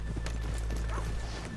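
Horses' hooves clip-clop in Red Dead Redemption 2 as riders pull up in a frontier town, a soft rhythmic patter of steps over a steady low ambient rumble, with no talk.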